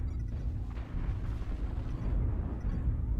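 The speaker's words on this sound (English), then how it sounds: "Airstrike online." Airstrike explosions in MechWarrior Online rumble as a continuous deep, muffled roar of overlapping blasts, steady and moderately loud without distinct separate hits.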